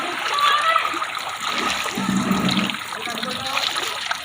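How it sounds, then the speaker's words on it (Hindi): Floodwater pours with force across a road during heavy monsoon flooding, a steady loud splashing rush with churning turbulence, while a voice speaks over it. "इस कारण पानी का ज़्यादा बहाव इस तरफ बढ़ गया है"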